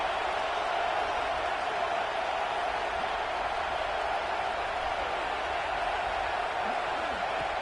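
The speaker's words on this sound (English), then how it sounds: "this home crowd is fired up and ready to make a difference today" Home crowd noise in the College Football 26 video game during an Alabama Crimson Tide vs Texas game, a steady, loud, continuous stadium roar with no clear breaks throughout.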